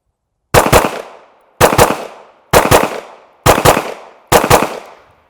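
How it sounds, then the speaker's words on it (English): Five loud, sharp gunshots fired one at a time at roughly one-second intervals, each with a crisp crack and a decaying echo, during a go-stop shooting training session. "I'm gonna shoot a couple of doubles and then go into go stop regular right away"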